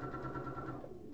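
Sewing machine running steadily while top stitching a bag, a brief continuous mechanical whirr heard close up and fairly quiet, with no talking.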